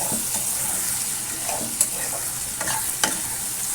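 Spices with salt, sugar and chili powder being stir-fried in a pan: a soft sizzle under repeated stirring scrapes and a few sharper spatula knocks, no voices.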